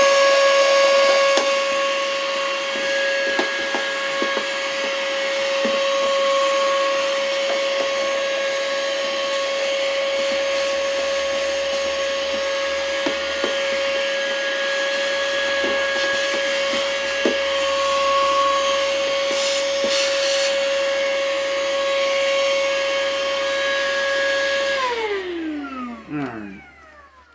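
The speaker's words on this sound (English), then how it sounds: "Just going to fire this portable vacuum up here and I'm going to suck some of that plastic out" A portable vacuum sucks plastic debris out of a dry cleaning machine, whining steadily at close range with a strong high-pitched tone, occasional clicks of debris rattling through, then winds down at the end.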